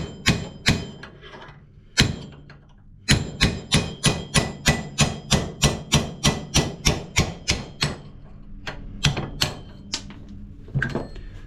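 Hammer blows drive a punch to knock a bushing out of a zero-turn mower part. A long, steady series of sharp metallic strikes comes first, then a few irregular hits, loud and close.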